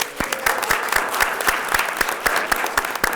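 Applause from the audience at a city council meeting, a steady patter of many hands clapping with a few sharp louder claps standing out, close and continuous.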